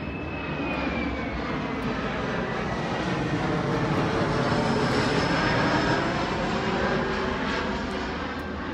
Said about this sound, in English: We got a plane flying over